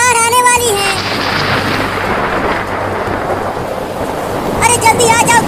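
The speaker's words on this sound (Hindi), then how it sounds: "मम्मी बादल गरज रहा है और बिजली भी गिर रही है।" Loud thunder rumbles through a thunderstorm in a village over steady heavy rain, with a voice talking at the start and again near the end.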